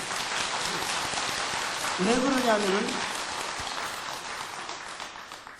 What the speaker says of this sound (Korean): 좋아가지고 박수 치는 거야